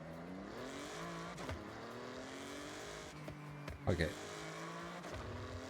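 Modded car engine in a racing video game, tuned to sound like a BMW, holding a steady droning note with a few sharp shifts and one brief revving burst near the end, heard under someone talking.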